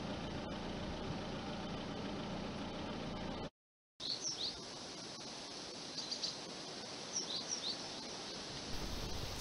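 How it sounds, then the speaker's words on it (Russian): A car engine drones steadily while driving along village roads near Novikovka, a constant low rumble with a brief dropout midway and faint bird chirps above it, no speech. "Едем по тем дорогам, по каким ходил Александр Неверов."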